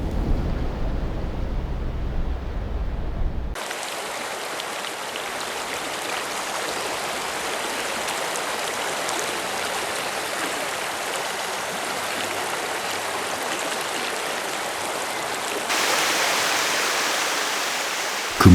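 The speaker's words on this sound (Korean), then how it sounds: "30m의 절벽 아래로 떨어지는 물줄기가 마치 용이 승천하는 것처럼 보여" Yongdam Falls on Geumsusan plunges from a 30 m cliff, a dense continuous roar of falling water that holds steady throughout, loud and broadband, with a brief low rumble at the start and no voices.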